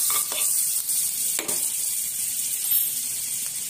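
Butter melting in a hot pan for butter garlic onion prawns, giving a steady close sizzle with a few brief stirring scrapes and no talking.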